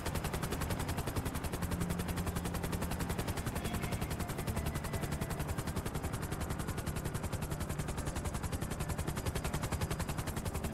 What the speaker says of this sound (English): He's now shooting.